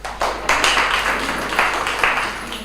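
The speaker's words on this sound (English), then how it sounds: "A round of applause." Clapping from an audience greets a poet at a schools debate championship, a dense, steady patter of many hands with a few louder swells, lasting the whole stretch without speech.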